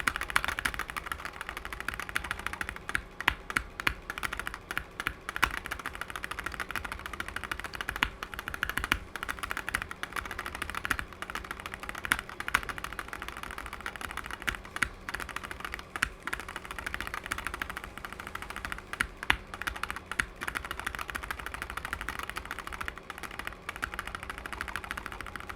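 Keys clack on a custom Wooting 60HE+ keyboard during osu! gameplay, with rapid bursts of crisp taps and brief pauses repeating steadily over a faint background hum.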